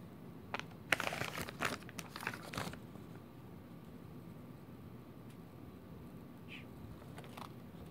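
A piece of paper crinkles and rustles in a short burst near the start, then quiet room hiss remains.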